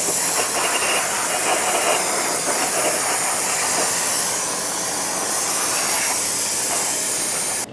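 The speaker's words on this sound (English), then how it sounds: "let's rinse it off with some brake parts cleaner" Brake parts cleaner sprayed onto a Ford Excursion wheel hub, a loud, close, continuous hiss lasting several seconds with slight pulsing, ending abruptly, no voices.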